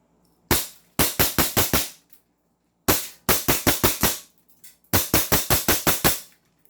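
A KP06 toy airsoft gun fires three rapid bursts of about six or seven sharp, loud cracks each, separated by short pauses.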